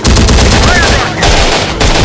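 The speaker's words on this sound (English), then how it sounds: "Fire rocket." A rocket launcher (RPG) firing in the Terminator Dark Fate Defiance video game, a loud close blast with crackling gunfire-like bursts and a second booming report, over a low rumbling battle background.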